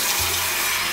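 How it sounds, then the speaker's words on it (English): Water runs steadily from a kitchen-style faucet, a close, even rushing hiss that holds for the full second with no voices. "I'm going to turn on the faucet here"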